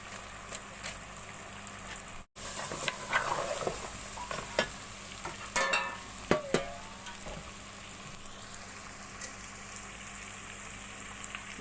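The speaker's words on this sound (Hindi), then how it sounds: "अब थोड़ी देर भून लेंगे।" Meat frying with a packet of korma masala in a pan, stirred now and then, giving a steady close sizzle with scraping clatter from the spoon, no voices.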